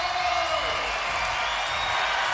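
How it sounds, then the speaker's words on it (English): MMA event crowd cheering and roaring after a women's fight, a steady wash of noise from a large audience, loud and sustained without break. "The crowd is on their feet, literally going crazy."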